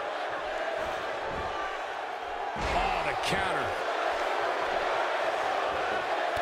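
A wrestling video game crowd keeps up a continuous roar that swells with a slam-like impact midway, while a commentator speaks over it.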